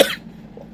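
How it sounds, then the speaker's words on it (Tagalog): A single short cough, close and fairly loud, followed by quiet. "Ubo ako guys."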